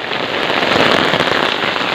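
Heavy rain pours steadily outdoors at a dairy farm where cows are tied out in the downpour, a dense, loud, continuous hiss with fine pattering and no voices.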